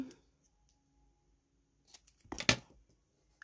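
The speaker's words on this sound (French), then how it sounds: "Et là, je vais venir couper." Scissors cut paper for a moodboard, a short cluster of crisp snips and rustles near the end after near silence.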